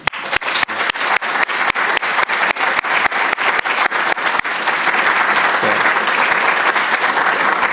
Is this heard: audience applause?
yes